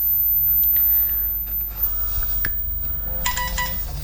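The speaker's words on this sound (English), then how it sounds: "There goes my phone." A mobile phone ringtone chimes during a paper-folding craft demonstration for Christmas pyramids, a short, fairly faint electronic melody sounding late in the clip over a quiet indoor background.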